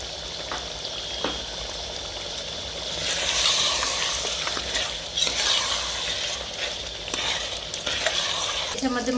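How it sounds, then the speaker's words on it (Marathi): Biryani masala sizzles in a pan as salt is added and a spoon stirs it, with a steady frying hiss that swells midway and repeated scraping strokes close by. "आता याच्यामध्ये आपण चवीनुसार मीठ टाकूया आणि त्याला चांगलं हलवून घेऊया"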